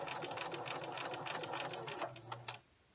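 Sewing machine stitching quilt binding with a quarter-inch seam, a short back stitch at the start, then steady close mechanical whirring and ticking that slows and stops near the end.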